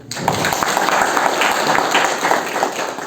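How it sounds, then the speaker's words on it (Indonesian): A seated audience claps for a short while at a Muhammadiyah Baitul Arqam gathering in Buleleng, producing steady, moderately loud applause with no voices over it. "Alhamdulillah, tepuk tangan dong."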